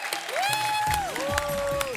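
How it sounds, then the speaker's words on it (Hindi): Studio audience applause on a television comedy show, brief and lively, mixed with a sustained musical tone with sliding pitch and some faint crowd voices underneath. "जोरदार तालियां हो जाए सबके लिए"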